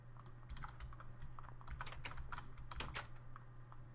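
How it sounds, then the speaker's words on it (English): Rapid computer keyboard and mouse clicking during a Minecraft session, a steady close-up patter of irregular clicks over a low hum throughout. "I'm clicking everything."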